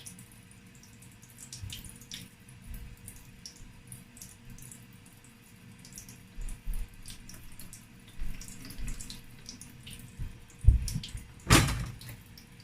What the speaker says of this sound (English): This is the stock. I'll be pouring it inside the bottle.